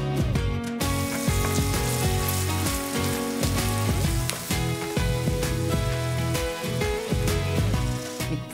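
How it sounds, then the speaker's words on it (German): Finely chopped spinach sizzles in a frying pan with a continuous crackling fry, partly masked by louder background music. "Den Spinat fein hacken und in die Pfanne dazugeben."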